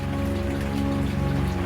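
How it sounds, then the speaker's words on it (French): Torrential rain falls steadily and densely in Seattle in November, a continuous loud wash of drops with no pauses and no voices. "La pluie, torrentielle,"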